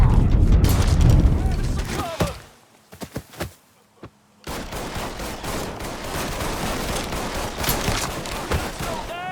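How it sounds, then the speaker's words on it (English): Gunfire and a grenade blast in the video game Mafia 3: a dense burst of shots, a short lull with a few scattered cracks, then a loud sustained roll of fire and booms that carries to the end. "someone actually threw a grenade"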